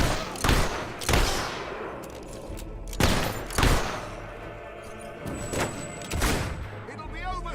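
Gunfire erupts in a battle in the video game Fable III: several loud, close bursts of shots and heavy booms land in uneven clusters, with a few voices heard between them.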